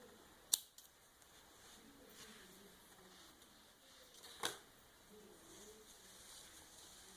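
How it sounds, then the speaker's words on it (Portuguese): Scissors snipping crochet yarn while finishing a crocheted adult-size Pokémon Go beanie, two sharp, quiet snips several seconds apart against a near-silent background. "E agora é só cortar."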